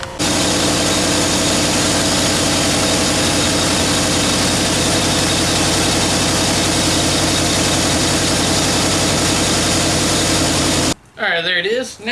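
A small-block Chevy V8 runs at a steady, loud idle right beside the listener, a dense continuous rumble that holds for about eleven seconds and then cuts off abruptly, leaving a short stretch of quieter noise.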